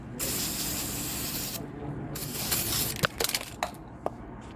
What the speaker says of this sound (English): I'm going to paint this guy with the black. So here it goes. First coat on this side.